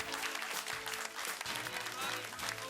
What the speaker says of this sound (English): It's an exciting time with lots of applause and smiles all around.